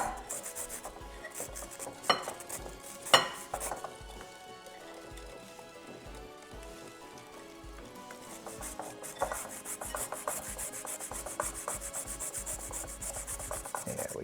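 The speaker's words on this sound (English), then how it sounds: "So now we are going to add the dry mix to it." Dry ingredients are worked into wet carrot cake cupcake batter in a bowl, giving soft, repeated rubbing and scraping strokes. A few louder knocks come early, with a faint tonal hum underneath.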